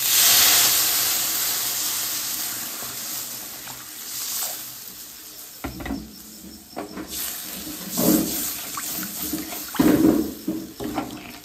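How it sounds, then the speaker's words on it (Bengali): Water poured into a hot pan of red-fried cauliflower florets, hissing and sizzling with steam, then bubbling and spattering in bursts, close and fairly loud. "এবার এর মধ্যে অ্যাড করে দেবো জল।"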